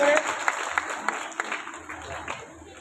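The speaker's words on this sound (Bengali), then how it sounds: "সুমনের জন্য তোমার বাচ্চারা সবাই একটা হাততালি দিতে হবে" Schoolchildren at a village gathering clap for a visitor who brings them gifts, scattered, uneven claps rather than a full ovation, fairly faint, with voices chattering over them.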